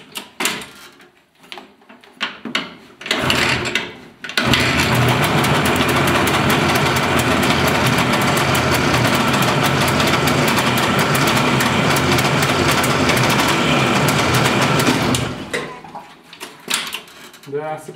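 An Izh Jupiter 5 motorcycle engine fitted to a homemade buggy starts and runs with a loud, buzzy, steady roar for about ten seconds before cutting out, with voices around it.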